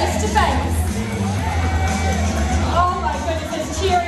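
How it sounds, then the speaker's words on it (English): Audience at a zoo bird show in an arena cheers and shouts at once, a steady crowd babble with whoops rising over it, loud and close throughout. "there's cheering over here"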